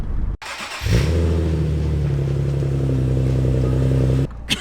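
A Mini Cooper S (F56) engine revs up with a loud, throaty exhaust drone that holds steady for several seconds, then cuts off abruptly.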